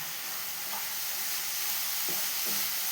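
A coconut and cardamom-sugar mixture is stirred in a hot pan under a dense, steady sizzling hiss. A few soft scrapes of the spoon stand out near the end, and no one talks.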